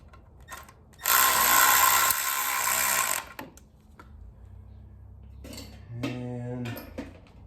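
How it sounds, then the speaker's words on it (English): A hand ratchet fitted with a 3/8 mini wobble extension, working on an Audi oil pan job, gives a loud close run of rapid clicking followed by shorter bursts and a low mechanical hum. "I need a little extension on this ratchet"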